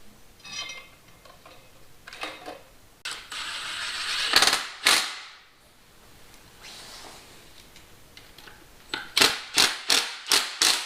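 A ratchet tightens exhaust manifold bolts on a 2006 5.7 Hemi, with a few scattered clicking strokes, then a run of rapid, evenly spaced loud clicks near the end, close-up with no talk.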